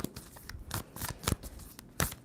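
Tarot cards being shuffled, a series of quick, crisp riffling bursts and soft slaps in an irregular rhythm, close by and fairly quiet.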